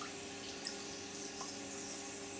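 Compressed air escapes from a 3D printed part held underwater, producing a quiet, continuous stream of bubbling and trickling water.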